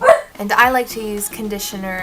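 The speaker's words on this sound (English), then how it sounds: "my dog is barking in the background" A dog barks a few times in the background of a room while a person talks steadily over it, the barks mixed with the voice.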